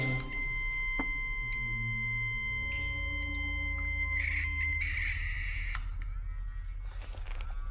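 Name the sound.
electronic buzzing noise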